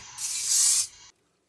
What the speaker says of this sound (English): spray it with non-stick spray